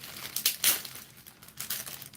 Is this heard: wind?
no